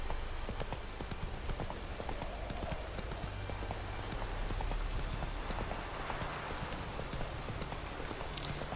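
Horse hooves clip-clopping at speed over wet ground in The Witcher 3 video game, with rain pattering steadily throughout, a continuous busy rhythm at moderate loudness and no clear speech.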